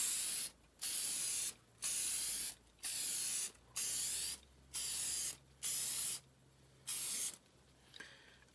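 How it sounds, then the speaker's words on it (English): Lacquer is sprayed from a can onto a turned wooden bowl in repeated bursts, about eight sharp, close hissing blasts of roughly half a second to a second each, split by short quiet gaps, with no speech. "putting on the last coat of lacquer"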